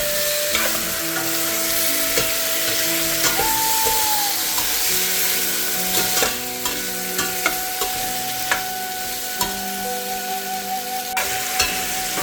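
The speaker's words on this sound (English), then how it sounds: "Now I add the tomatoes." Tomatoes hitting softened onions and garlic in a hot pan for a Punjabi sprout and aloo curry, a loud, close, continuous sizzle with scraping stirs and small clicks throughout, no voices.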